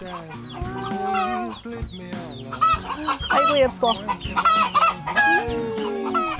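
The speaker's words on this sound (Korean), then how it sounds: "병아리들이네." Chicks and hens kept with neighbours in an urban yard peep and cluck in busy overlapping bursts, close and lively, while someone briefly speaks over them.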